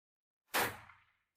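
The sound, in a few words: pistol gunshot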